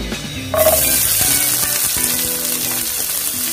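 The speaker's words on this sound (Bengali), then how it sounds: "সেই পেঁয়াজটা দেখো আমি এর মধ্যে দিয়ে দিচ্ছি" Finely chopped medium onions go into hot oil in a pan and burst into a loud, sharp sizzle that settles into steady frying, with faint clinks.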